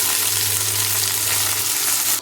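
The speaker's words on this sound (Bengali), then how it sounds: "এবার আমি কেটে রাখা ক্যাপসিকাম আর পেঁয়াজটা দিয়ে দিচ্ছি।" Chopped capsicum and onion dropped into a hot pan with fried ginger and garlic, a loud, dense, even sizzle filling the whole moment up close.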